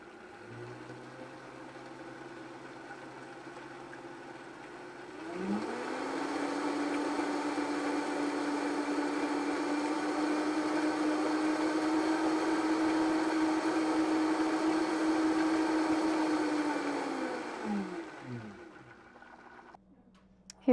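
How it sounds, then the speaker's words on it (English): Countertop blender whirring steadily as it purees homemade Italian salad dressing with a sprinkle of Parmesan, a loud sustained motor drone that spins up, holds for about twelve seconds, then winds down. "Let's blend."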